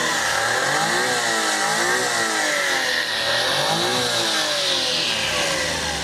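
Turbocharged 12-valve car engine running and being revved, a loud, close, continuous drone with rising and falling pitch sweeps as the revs climb and drop.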